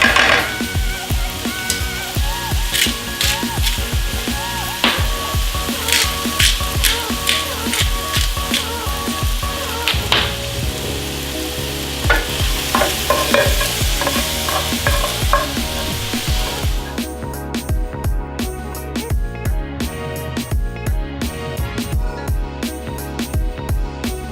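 Spinach with garlic sautéing in a pan, a steady close sizzle with frequent utensil scrapes and clinks as it is stirred, and no talking.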